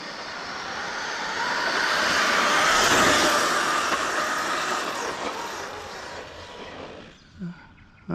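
A radio-controlled car, run on Turnigy 3S lithium-polymer batteries wired for 6S, makes a loud full-throttle pass: a broad whining, rushing roar that swells over several seconds, then fades away, with brief clatter near the end.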